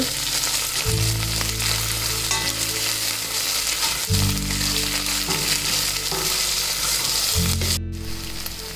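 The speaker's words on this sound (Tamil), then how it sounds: "இப்போ இதை வந்து கொஞ்சம் நல்லா வந்து ஃப்ரை பண்ணி விட்டுக்கோங்க, அந்த பச்சை வாசனை போகிற அளவுக்கு." Vegetables and spices frying in a pan for Arabic vegetable mandi rice, a loud, close, continuous sizzle with stirring, a steady low hum running underneath, no voices.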